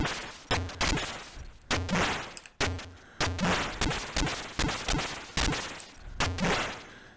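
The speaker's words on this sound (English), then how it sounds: "I like this wave weapon a lot." Wave weapon firing in the Atari ST shoot-'em-up Z-Out: a steady run of sharp synthetic blasts, roughly a dozen, each decaying quickly before the next, loud and close with no talk.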